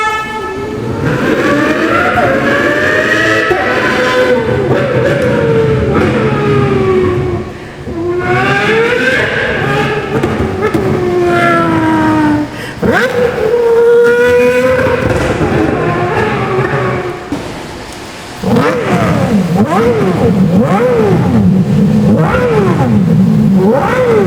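A person's mouth imitates an F1 V12 car engine in a parking garage, voicing loud rising and falling revving whines in repeated surging runs with short breaks, like a car shifting through gears and passing by.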